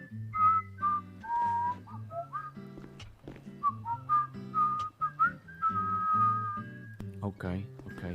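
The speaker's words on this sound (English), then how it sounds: "I'm getting better at this whistle." A person whistles a melody of sustained and sliding tones, loud and close, through about eight seconds, over a low steady background of game music or hum.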